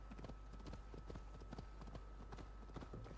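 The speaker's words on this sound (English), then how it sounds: "I'll let the horse go for a while." Horse hooves clip-clop rhythmically in Assassin's Creed Valhalla gameplay, a quick steady galloping beat over a constant low rumble and faint game ambience.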